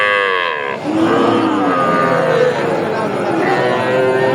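Bull calves at the Raniganj rural livestock market moo loudly, one long low call after another, over a busy background of crowd chatter and market noise.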